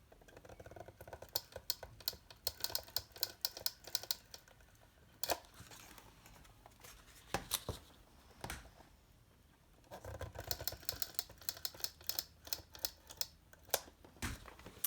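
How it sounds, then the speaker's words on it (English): An Easy Glider glue tape runner pressed along a paper card, giving repeated short clicky, crinkly bursts in uneven runs with brief pauses, close and fairly quiet, no talking. "I'm using my Easy Glider. It does the job really well, and it's glue tape that I'm putting on here."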